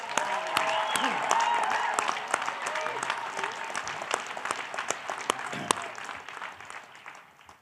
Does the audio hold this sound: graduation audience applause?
yes